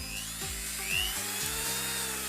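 A Mollar mini grinder, a small carving tool for Batak gorga ornaments and kecapi statues, spins freely with a high, dental-drill-like whine whose pitch steps up and down as its speed is adjusted, close and alone.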